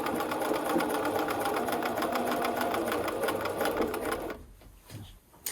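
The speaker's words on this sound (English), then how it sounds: "And then just keep sewing." A sewing machine stitches fabric in a rapid, even mechanical chatter at close range for about four seconds, then stops, leaving a quieter pause with a few small clicks.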